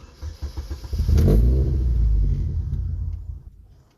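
A Chevy Cobalt engine cranks and catches with a rising rumble, runs roughly for a couple of seconds, then fades away as it fails to stay running; close and loud, no talk.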